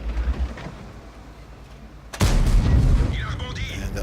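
A tank cannon in World of Tanks fires, one sharp, loud boom following a quieter stretch of background rumble, with a ringing tail and a voice talking over it.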